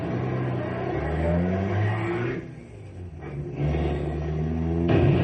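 A radio-drama car engine revs hard, dips briefly, then roars again as the car accelerates to crash through a gate. The motor is loud and close, with no voices.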